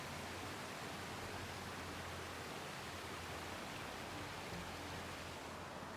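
Small waterfalls spill over boulders and rocks beside a hiking trail, giving a steady, full rushing wash of water that holds evenly throughout with no voices.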